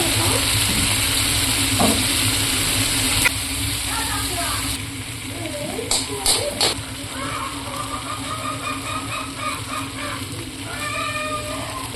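Liver frying in a pan with cheese, a constant loud sizzle and hiss with scraping as it is stirred, fairly close and uninterrupted.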